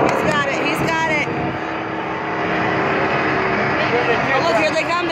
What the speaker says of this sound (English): You hear the jet dryer screaming.